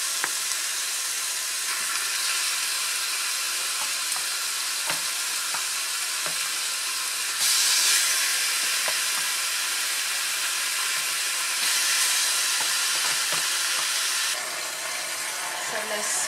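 Chicken pieces and stewing ingredients sizzle and get stirred in a hot pan, a steady loud frying hiss with scraping bursts and faint clatter throughout.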